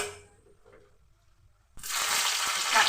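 Black salt sizzling in a hot pan, a bright crackling hiss that bursts in loudly partway through after a quiet start and holds steady, with faint clinks.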